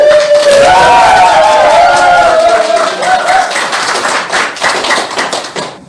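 At a harmonica and laughter class, the group begins with a loud gliding tonal sound, then breaks into brisk, close clapping that grows more scattered toward the end.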